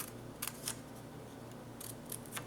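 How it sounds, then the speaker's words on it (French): Scissors snip through a square of scrapbooking paper, giving several crisp, quiet cuts in two short bursts with a pause between them and no talking. "je vais tout simplement couper le plus grand carré"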